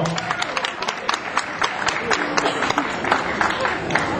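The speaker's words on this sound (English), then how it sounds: "A round of applause, please," An audience at a bodybuilding show applauds as Tom Watt comes forward to present trophies, a dense, steady wash of many hands clapping from a crowd, sustained throughout at moderate loudness.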